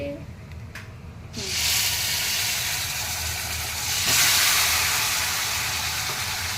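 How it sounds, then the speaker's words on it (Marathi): Eggplant dropped into hot oil with homemade garam masala erupts into a loud, broad sizzle that swells further midway and keeps frying steadily, preceded by a brief clatter; no talking. "तेलामध्ये वांगे टाकलेले आहेत"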